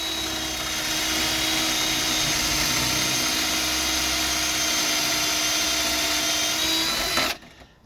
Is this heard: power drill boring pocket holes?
yes